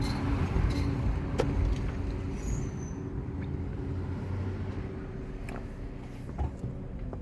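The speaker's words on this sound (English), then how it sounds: "Let me get out of the way of this vehicle behind me." A vehicle passes behind on a city street in a gentrifying neighborhood of new buildings, a steady low rumble of traffic running the whole time with no talk.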